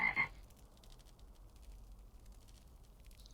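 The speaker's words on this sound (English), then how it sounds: "That's a Puerto Rican frog. The song of the cookie." A Puerto Rican coqui frog gives a brief, bright call right at the start, then fades into faint, quiet background hiss.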